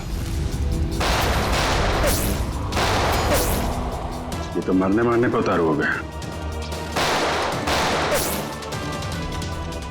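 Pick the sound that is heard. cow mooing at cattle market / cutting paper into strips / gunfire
gunfire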